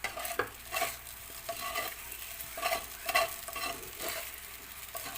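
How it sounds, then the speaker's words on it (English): Sabudana (sago) khichadi cooking slowly in a pan, with repeated close scraping stirs over a soft, steady sizzle and no voices. "This will be a slow cooking. Then we have to wait until our sabudana or sago gets cooked."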